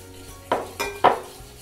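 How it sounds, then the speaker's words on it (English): Melted butter and granulated white sugar mixed in a large bowl: three distinct clinks and scrapes of a utensil against the bowl, close and spaced, over a quiet background without talk. "now we're gonna mix the melted butter into a large bowl. We're gonna mix that with the granulated white sugar"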